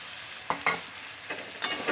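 Grated tomato and ginger stirred into a pan of bottle gourd and lentils bring a soft sizzle and several distinct scraping stirs spaced through the moment, with no voices.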